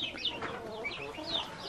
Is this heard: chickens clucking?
yes